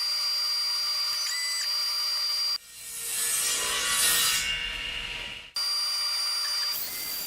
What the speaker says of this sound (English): Now we're actually cutting the area between the letter and the inside of the circle, going around it